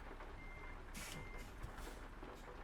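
Truck reversing beeps from the Euro Truck Simulator 2 driving game, a steady run of repeated electronic warning tones over a constant engine drone, with a few short hissy bursts in between.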